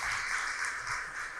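Audience applause at an International Women's Day celebration held by Brahma Kumaris in Ulhasnagar, a steady wash of many hands clapping throughout, moderately loud and continuous with no talk.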